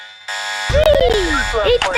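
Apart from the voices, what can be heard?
alarm going off in a Roblox video game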